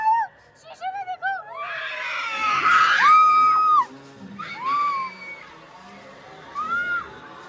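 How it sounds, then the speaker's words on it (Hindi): Shrill screams and excited shrieks come from people behind, with several voices overlapping in bursts, loud and close, mixed with talk and whooping during a family drive to Murree. "शुक्र है पीछे चीखों की आवाजें आ रही है।"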